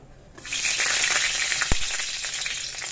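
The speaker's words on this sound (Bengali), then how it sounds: "আর এই কড়াইতে দেখো কিছুটা তেল আর সর্ষে দিয়ে দিয়েছি এইটা রান্নার জন্য।" Mustard seeds spit and crackle in hot oil in a wok, a loud steady sizzle that starts abruptly and keeps up, with a single sharp pop partway through.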